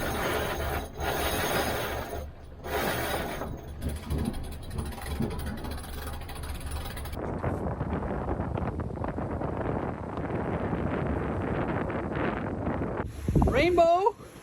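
Heavy wind blasts across a sailboat at sea during a rough passage against wind and waves, roaring gusts and microphone buffeting alongside people talking.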